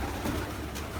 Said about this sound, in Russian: Вот видите, вот этот голубь.